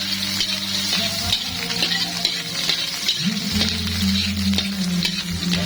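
Onion sizzles in a pan as a base for sweet and sour crab, a close steady crackle with stirring, over a low background hum.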